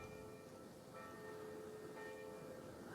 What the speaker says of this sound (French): accompagné du son des cloches